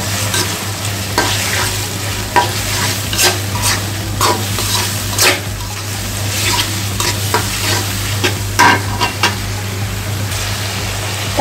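Garlic paste fries in oil for a duck kala bhuna, a continuous close sizzle with the frequent scrape and clatter of a spoon stirring the pan, and no talking.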